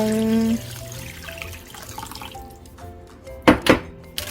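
Water poured into a pot for spicy Samyang ramen with smoked duck and bracken, a steady pour then a few sharp knocks and splashes near the end, close up with no talk.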